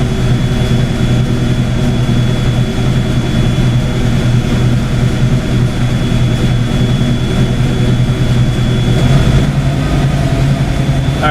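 A Ford Fox Mustang engine runs in gear at a steady idle, a loud, close, unbroken drone with a slight shift near the end and no talking.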